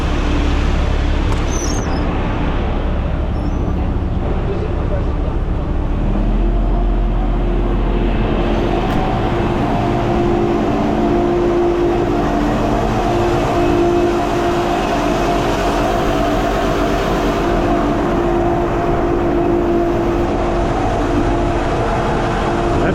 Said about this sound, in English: All right, let's idle it up. Get this thing kicked off.